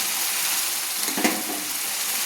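Yogurt being stirred into a papaya curry frying in a wok, a steady close sizzle with a brief scraping stir partway through.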